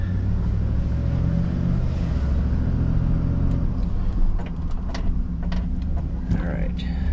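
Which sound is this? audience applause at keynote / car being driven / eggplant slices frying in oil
car being driven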